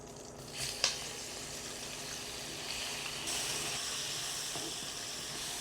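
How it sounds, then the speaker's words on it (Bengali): Shrimp frying in hot oil seasoned with a little salt and turmeric, a soft steady sizzle and hiss that swells louder partway through, heard close with no voices. "এখন আমি চিংড়ি মাছগুলো দিয়ে দেব,"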